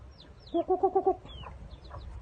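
A fighting cock gives a quick run of five sharp clucks close by, with softer bird chirps and faint farmyard background around it.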